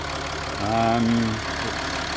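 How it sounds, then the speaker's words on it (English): A Land Rover Discovery 4 engine idles steadily with a low, even rumble and a faint tonal hum swelling briefly in the middle. "that's the engine ticking over"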